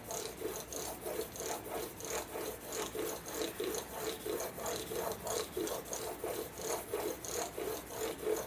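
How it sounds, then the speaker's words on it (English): A steel broadhead drawn back and forth across a fine 2500 grit sharpening stone, making a steady rhythmic rasping rub with even strokes about twice a second, close and clear with no talking. "Start with the side that has the burr on it. And just back and forth to work that burr back over to the other side."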